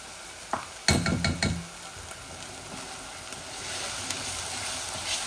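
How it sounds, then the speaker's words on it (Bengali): Onions frying in a pan for a tangy fish and tomato curry: a few clinks and stirring scrapes early on, then a steady, soft sizzle that continues quietly to the end. "একটু পেঁয়াজগুলা ভাজা ভাজা হোক"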